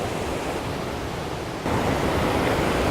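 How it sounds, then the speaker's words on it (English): Ankini Falls waterfall rushes as a dense, continuous roar of broadband noise, close and loud, with a slight jump in volume midway and no voices. "The waterfall is there."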